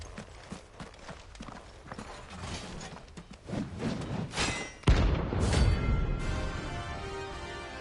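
Horse hooves clip-clop at a steady walking rhythm in the Final Fantasy XVI game, then give way to a louder rumbling, mechanical-sounding passage.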